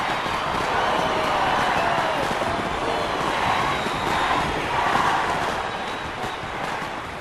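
A Brazilian carnival crowd shouts and cheers at a street parade, a loud continuous wash of many voices with no breaks, close and enveloping.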